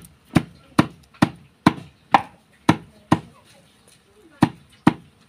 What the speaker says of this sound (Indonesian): Kita haluskan seperti ini.